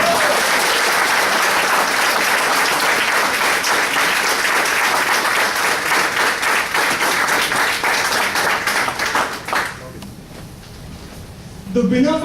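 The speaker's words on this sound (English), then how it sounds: "Can I have a round of applause once again?" A hall audience at a humorous speech contest breaks into loud, sustained applause, a thick continuous roar of many hands that holds steady for about nine seconds before thinning out and fading, with a few sounds returning at the very end.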